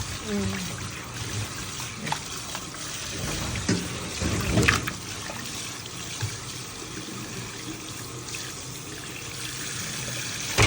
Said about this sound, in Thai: เราล้างหลายน้ำเลยอันนี้สะอาดจริง